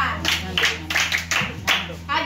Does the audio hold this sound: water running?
no